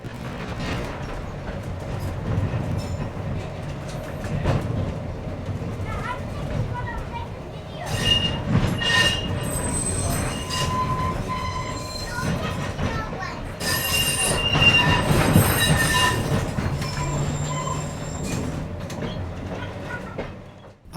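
Heritage tram on the Wellington tramway running continuously, with steady rumbling wheels, rail noise and high metallic squeals of the wheels, loud and near throughout.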